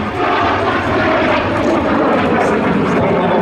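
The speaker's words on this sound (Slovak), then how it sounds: "Je to naozaj prvé prúdové lietadlo, navrhnuté, vyrábané v Československu, maximálna rýchlosť 800 km za hodinu." The first jet aircraft designed and built in Czechoslovakia, flying at an air show, a loud, steady roar of engine noise sustained throughout without talk.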